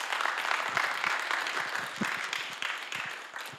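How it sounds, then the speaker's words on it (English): Brief round of audience applause after speeches at a participants' event, a moderate wash of many hands clapping that holds steady and tapers slightly at the end. "Let's give them another round of applause."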